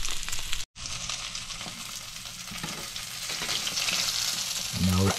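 Skin-on salmon fillet pan searing for crispy skin, giving a loud, continuous close sizzle and crackle of frying oil with a brief dropout and some scraping near the end.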